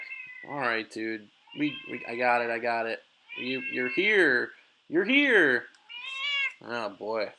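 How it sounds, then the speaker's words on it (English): A cat meows repeatedly, loud and close, in drawn-out rising and falling cries, while someone talks to it between and over the calls. "That is my cat"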